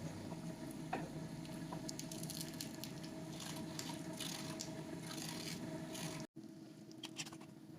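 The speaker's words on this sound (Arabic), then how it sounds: "اسمعولي صوت القرمشة شي بيشهي القلب" Shawarma sandwiches crisp in olive oil in a frying pan with a soft, steady sizzle and faint crackle that runs close and quiet throughout, broken by one brief dropout near the end.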